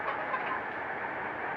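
Chickens clucking steadily as they are put into a bamboo cage, a dense continuous flock sound with no voices, close and fairly even in level.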